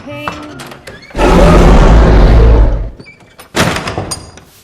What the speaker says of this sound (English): There's a 20-second door closing sequence in the film.